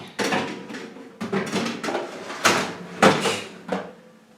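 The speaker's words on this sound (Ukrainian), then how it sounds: "я так відкрию духовку, поставлю туди прямітнички" A kitchen oven door is pulled open, with a series of close metallic clunks, creaks and rattles as trays of ginger chocolate cookies are handled around it.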